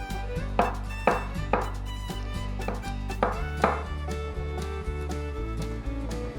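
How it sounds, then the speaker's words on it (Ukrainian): A knife chops tomatoes into cubes steadily on a cutting board, a series of sharp thuds at an even pace over a low background hum. "Томати познімали з них шкірку, а зараз поріжемо"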